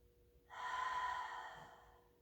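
A slow, audible breath during a Pilates mat stretch in child's pose, arms reaching long overhead; one drawn-out airy exhale begins after a short quiet moment, swells and fades gradually, close and alone without talk.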